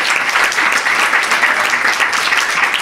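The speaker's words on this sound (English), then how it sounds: "So a round of applause again." Loud, close audience applause after a conference panel discussion, dense continuous clapping filling the whole stretch without a break.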